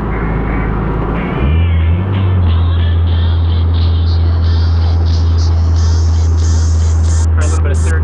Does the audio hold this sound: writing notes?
no